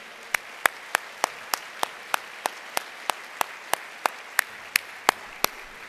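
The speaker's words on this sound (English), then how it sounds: "please give them a huge round of applause for volunteering" Evenly spaced single claps ring out at a regular rhythm, about three per second, over a quiet room as an audience acknowledges volunteer judges at a business plan competition awards event.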